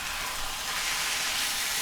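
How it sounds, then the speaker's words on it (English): Breakfast sizzles and crackles in a hot pan outdoors in the wilderness, a steady, close frying hiss with no one speaking. "We're gonna get a sizzle here."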